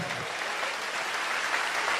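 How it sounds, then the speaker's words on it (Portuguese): A church congregation applauding during a sermon, a full, steady wash of clapping from many hands that holds at an even level throughout. "dê uma salva de palmas ao Senhor"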